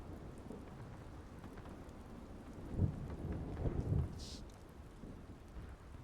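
Steady rain and rumbling thunder in the Civil War game War of Rights on the Nicodemus Hill map, a constant wash of rainfall with a couple of low thunder rolls swelling in the middle, no voices.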